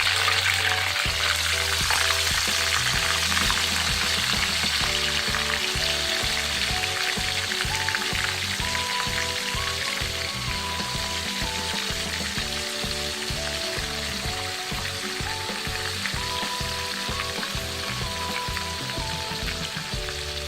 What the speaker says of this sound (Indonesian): Setelah minyaknya panas, kita goreng ikan asinnya